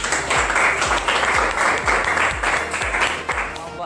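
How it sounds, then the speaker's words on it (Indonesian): A classroom group applauds together, a dense, steady wash of many hands clapping at close range throughout, with no pause in the sound. "Kita beri aplaus dulu"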